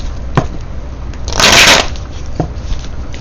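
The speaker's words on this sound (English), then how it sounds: "Let's do one more shuffle." Tarot cards being shuffled up close: a single brisk riffle lasting under half a second, with a few faint card taps before and after and no talking.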